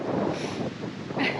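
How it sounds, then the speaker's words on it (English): Steady gusts of outdoor wind buffet the microphone in an open clearing, producing a loud, continuous rumbling roar throughout. "this wind is terrible"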